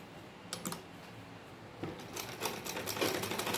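A sewing machine stitches fabric for a salwar ponche design in short bursts of rapid mechanical clatter, starting and stopping several times at close range with no talk.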